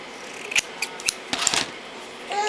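Scissors snipping through a piece of fabric, a few crisp close cuts spaced irregularly with brief pauses between them, ending in a softer rustle.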